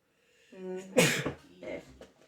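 A single sharp sneeze, close and loud, with a brief drawn-in breath before it.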